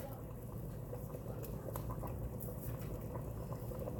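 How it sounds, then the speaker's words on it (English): Dumplings simmering in a pot of boiling water for chicken and dumplings, a steady close bubbling patter that runs the whole time with no gaps. "I'm gonna put about 1/4 of them in the pot and let them start boiling"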